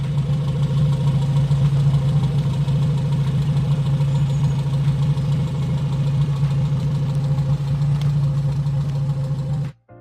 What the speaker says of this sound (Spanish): Lo mejor de los todo atrás es que suena muy bien porque la línea de escape es muy corta